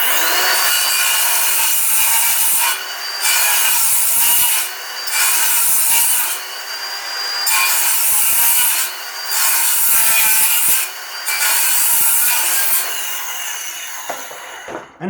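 A Ryobi One+ 18V cordless circular saw cuts a notch in timber, making repeated loud whining passes, about six cuts with short pauses between, close and alone with no talk.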